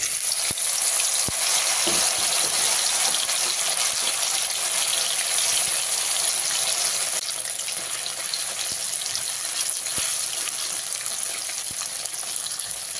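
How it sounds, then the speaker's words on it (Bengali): Okra frying in hot mustard oil in a wok over a medium gas flame, a steady loud sizzle throughout with occasional faint clicks of stirring. "ঢেঁড়সগুলো দিয়ে গ্যাসের ফ্লেমটাকে মিডিয়ামে রেখে ঢেঁড়সগুলো খুব ভালো করে ভেজে নেব।"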